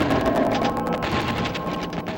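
Rapid, continuous gunfire from an N64 shooter rattles in dense repeated bursts at steady loud volume, with no pauses and no speech.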